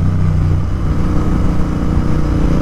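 A Royal Enfield Continental GT650 fitted with a Red Rooster performance exhaust gives a loud, deep, continuous rumble close by, with no pauses and no speech over it.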